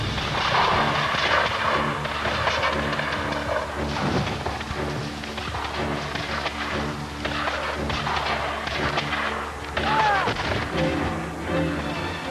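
Musket and rifle volleys in a reenactment of a Revolutionary War battle between British troops and riflemen: a series of booming shots and thuds, some overlapping, heard over a busy background of sustained tones.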